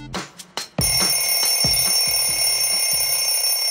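An alarm clock rings in a rapid, continuous electronic trill after a few short knocks, loud and close, sustained without pause.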